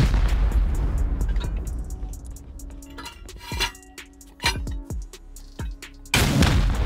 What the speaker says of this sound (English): I'm shooting the same spot the entire time.